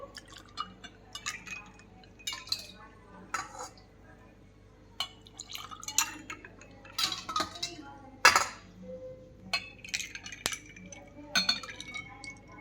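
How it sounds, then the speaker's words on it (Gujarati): Ice cubes dropped into glasses of tamarind jaggery sherbet make scattered bright clinks and taps against the glass, mixed with light drips and splashes of liquid, close and fairly quiet. "માં 2-3 આપણે આઈસ ક્યુબ નાખીશું જેથી કરીને એકદમ ઠંડુ ઠંડુ શરબત બને."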